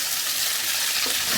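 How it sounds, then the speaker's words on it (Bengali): Fish seasoned with salt and chilli frying in hot oil in a wok, giving a steady, close, dense sizzle and crackle with no voices. "তেল গরম হয়ে গেছে, এখন মাছগুলো একটু ভেজে নিব"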